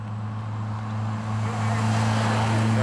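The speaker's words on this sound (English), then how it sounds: "Very nice car, these Mitsubishis. Make a wonderful sound." A Mitsubishi rally car in the novice category drives past at night during a road rally, its steady engine drone holding a deep, even hum that swells slightly louder as it nears, with no voices over it.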